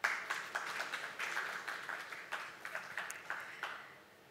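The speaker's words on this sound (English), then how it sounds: "Yes, you can clap for that." Sparse, uneven clapping from an audience at a sports awards ceremony, a few hands at moderate distance in a short ragged burst that thins out toward the end.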